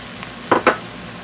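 Two quick bursts of hissing sizzle as blended tomato puree hits a hot pan for chicken kofta curry, close by and brief.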